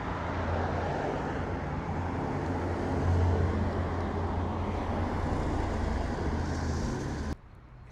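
A Porsche passes along a Paris street, a steady engine and road roar swelling slightly mid-pass over busy city traffic, close and loud, then cutting off abruptly near the end.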